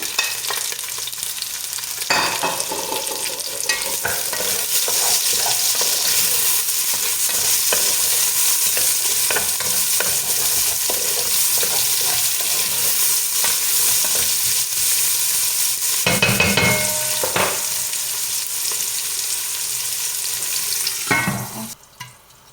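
Onions sizzle steadily in a hot pan for a long stretch, with occasional scraping and clinking as they are stirred, the frying loud and continuous before stopping abruptly at the end.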